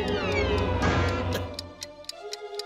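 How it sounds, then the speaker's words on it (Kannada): A cartoon time bomb ticks in the Motu Patlu animation, with a steady, evenly spaced tick about twice a second. A rising, whining, meow-like tone fills the opening moments before fading, leaving the ticking alone. "ಇದರಿಂದ ಟಿಕ್ ಟಿಕ್ ಅಂತ ಸೌಂಡ್ ಬರ್ಲಿಕ್ಕೆ ಹತ್ತದ."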